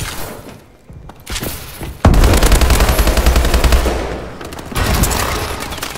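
STG 44 assault rifle fire in the video game Call of Duty: Advanced Warfare, a loud close burst of rapid automatic shots sustained for a few seconds, preceded by quieter game thumps.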